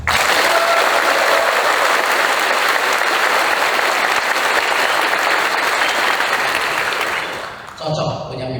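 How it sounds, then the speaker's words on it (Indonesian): An audience at a speaking event breaks into loud, sustained applause, dense clapping that fills the room for several seconds before fading out near the end. "Tepuk tangan buat Pak Beni."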